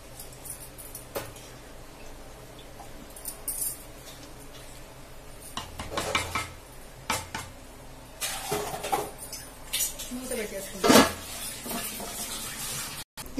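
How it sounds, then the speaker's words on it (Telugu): A spoon stirs and mixes veg pulao rice in a metal pot, giving scattered scraping clicks and soft sizzling, with a sharper clatter near the end and no talking. "ఇప్పుడు ఇదంతా బాగా మిక్స్ చేసేసుకుందాం."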